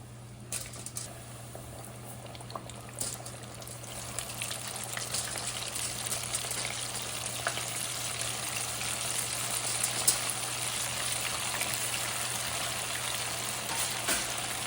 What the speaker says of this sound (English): We're going to put it in the hot oil.